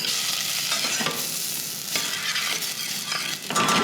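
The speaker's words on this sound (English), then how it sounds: "Shallots, just kind of like cook it down a little bit. Stir it down." Shallots fry in olive oil in a pan, giving a steady close sizzle with scraping, swishing stirs breaking through it at intervals.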